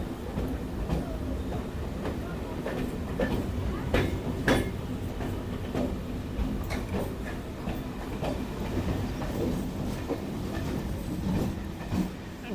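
A Kolkata Circular Rail train pulls out of Bibadibag station, wheels clattering and rumbling steadily with rhythmic clicks over the rails, loud and close from onboard.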